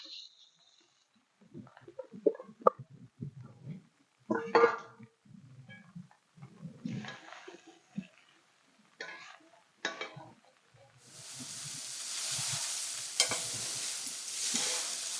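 Flattened rice (aval) is tipped into a pan of sautéed coconut, cashews, dals and mustard seeds and stirred, with scattered scrapes and clinks at first, then a loud steady sizzle taking over for the last few seconds.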